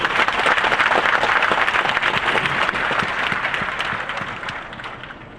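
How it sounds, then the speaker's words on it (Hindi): A crowd of party workers claps vigorously at a political gathering in a hall, brisk dense applause that holds strong and then gradually tapers off. "अपने लिए जोरदार ताली बजाइए।"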